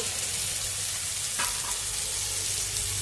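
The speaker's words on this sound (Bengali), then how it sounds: "আমি এবার পোস্ত আর কাঁচা লঙ্কা বাটাটা দিয়ে দিচ্ছি একসঙ্গে।" Poppy seed and green chili paste goes into a hot pan for a Bengali green banana curry, giving a loud, continuous sizzle and hiss with a brief clatter midway.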